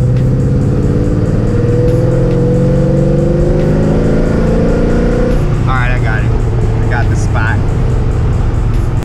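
A V8-swapped Mazda RX7 FD accelerates hard in fourth gear, its engine droning loud and close with pitch climbing steadily, then easing after a few seconds while people talk briefly over the engine.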